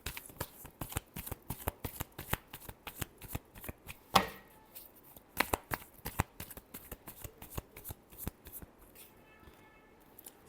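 Tarot cards are shuffled by hand in a quiet room, making close, crisp riffling bursts in an uneven rhythm, with one louder slap partway through.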